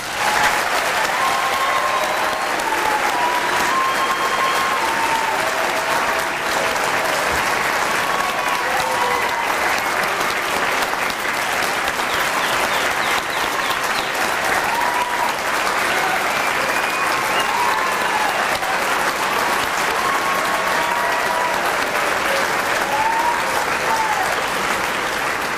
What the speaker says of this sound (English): Everyone, please join me one last time in applauding our graduates.